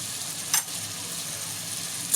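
A bottle gourd and snakehead fish head curry sizzles steadily in the pan, with two brief spoon scrapes as it is stirred.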